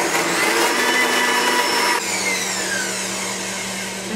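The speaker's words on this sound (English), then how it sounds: "I'm going to blend that up just a little bit. This is a Blendtec" A Blendtec blender whirs at high speed chopping garlic and onion for a raw pizza recipe, a loud steady motor whine in two short pulses with a brief dip between them, no voices.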